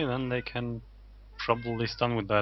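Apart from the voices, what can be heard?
cat meowing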